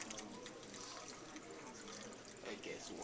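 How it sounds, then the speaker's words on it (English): Hot water poured from a kettle or jug into an old cottage cheese container during a classroom convection demonstration, a soft continuous trickle and splash under a quiet room. "Now I'm going to take my hot water and pour it down here."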